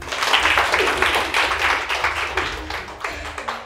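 Students clap together in a classroom at a makeup academy, a dense, sustained patter of hands that stays loud and close before thinning slightly toward the end.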